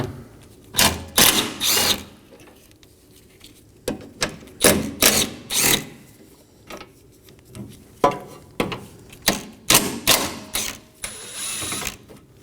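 A hand ratchet works on the 10mm bolts of a 2020s Toyota Corolla hood latch, with quick bursts of clicking strokes separated by short pauses and repeated several times at close range.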